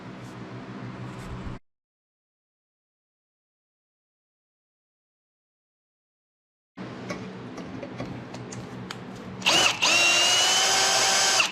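A power drill taps threads into holes in steel channel flanges, whirring in a short burst, then going quiet for several seconds before running again in a longer, steady stretch that grows louder and harsher at the end.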